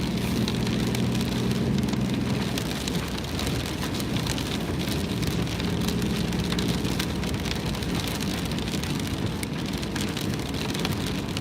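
Steady rain pours down on a hard surface, a dense continuous patter with a faint low rumble and some traffic-like noise underneath, close and fairly loud throughout.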